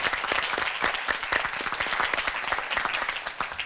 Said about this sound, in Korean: 두 팀에게 박수 한번 부탁드리겠습니다.